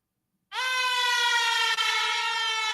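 Dub siren sound effect, a loud sustained synthetic wail that starts abruptly after a half-second of silence and holds steady to the end, no voices.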